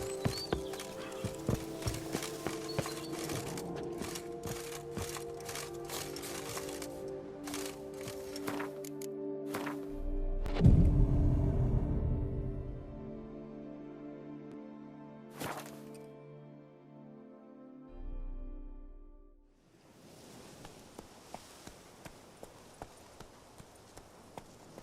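Hooves of Roach, a horse in The Witcher 3: Blood and Wine, clop steadily at walking pace, with a whinny and snorting partway through over soft music, then the hoofbeats resume.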